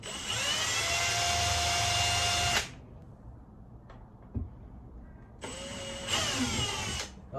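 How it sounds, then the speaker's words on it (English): Power drill boring a pilot hole through plasterboard, a loud high whine for about two and a half seconds, a pause with small knocks, then two more shorter bursts, close up. "I'm just going to put a pilot hole through."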